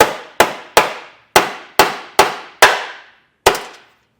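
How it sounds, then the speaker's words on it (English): A hammer drives in a small metal stud on a 2022 Jeep Grand Cherokee during a Roadmaster Direct-Connect base plate installation: eight loud, sharp metallic blows, evenly spaced with one short pause before the last, each ringing briefly. No talking. "So I'm just going to take a hammer"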